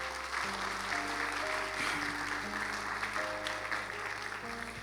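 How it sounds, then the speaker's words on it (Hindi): A church congregation breaks into steady applause, sustained clapping layered over held keyboard chords that shift in pitch underneath. "जोरदार तालियां अपने लिए।"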